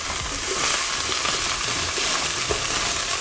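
Carrots, celery, tomato paste, thyme and rosemary fry in a pan with a loud, continuous sizzle, and occasional soft stirring scrapes run underneath.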